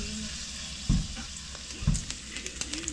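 Meat browning in a pan on an electric range, cooked for a traditional Texas Frito pie: a steady close sizzle with two soft stirring thumps and a few scraping clicks.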